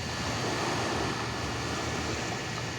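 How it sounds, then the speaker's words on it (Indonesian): Steady broadband wash of gentle ocean waves at Ketapang harbor on the Bali Strait, like soft surf rolling continuously, with a constant hiss and no distinct breaks or voices. "suara-suara ombak yang tipis"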